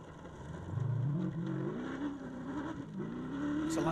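A Land Rover Indy race car revs hard at a 2022 Staffs & Shrops shakedown event, its engine note climbing and holding in a loud, steady drone with no talk over it.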